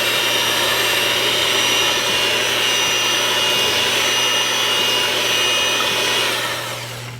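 An electric mixer whirs loudly and steadily, blending vanilla extract into powder for a keto chocolate cream pie filling, then winds down at the end.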